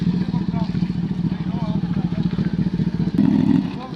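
A Kawasaki ZX-10R sport motorcycle rumbles past during a bike flyby, its steady engine drone loud and close throughout and swelling near the end, with some clatter mixed in.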